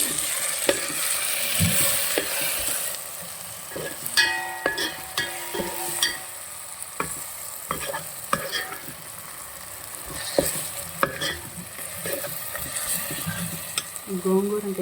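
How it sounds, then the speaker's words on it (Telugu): Thinly sliced onions with salt and turmeric fry in a pan for gongura chutney, a sizzle broken by frequent scraping and clinking stirring strokes, close and moderately loud, with a few brief non-speech noises. "సన్నగా తరిగిన ఆనియన్స్, కొంచెం సాల్ట్, కొంచెం పసుపు, ఆ మూడు వేసుకొని కొంచెం ఫ్రై చేసుకోవాలి"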